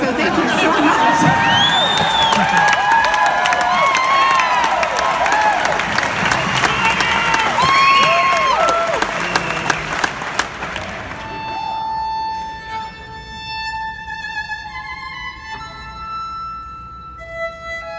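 Concert audience at Riverside in Milwaukee clapping, cheering and whooping loudly during a live performance, a dense burst of applause and shouts that fades after about ten seconds into sparse claps and lingering musical tones.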